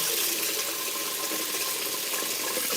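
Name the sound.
rinsing rice in water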